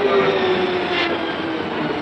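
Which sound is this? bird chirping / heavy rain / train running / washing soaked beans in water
train running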